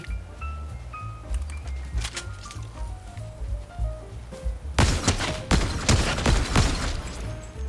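Shotgun fire in Fortnite on Xbox Series S, a burst of loud, sharp blasts clustered in the second half, following quieter scattered impacts and game sounds.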